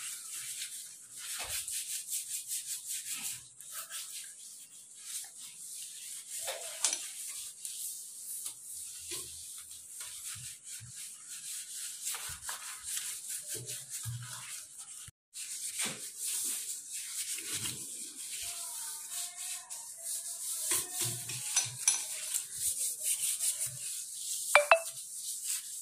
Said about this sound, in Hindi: इस तरीका से रगड़ना है।